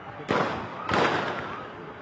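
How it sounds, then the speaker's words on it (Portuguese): Two loud gunshots fired into the air by a police officer at a street protest in Rio de Janeiro crack a little over half a second apart, each leaving a rumbling tail over a noisy crowd background. "O policial deu 2 tiros para o ar nesse momento."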